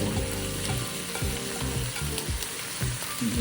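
Cut cabbage for shrimp fried rice goes into a hot frying pan, making a close, steady sizzle with repeated stirring thumps and scrapes of the spatula against the pan.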